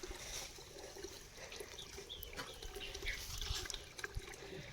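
Water trickles and splashes steadily from a garden hose while a dog drinks straight from it outdoors, faint and close with light lapping and occasional soft bird sounds.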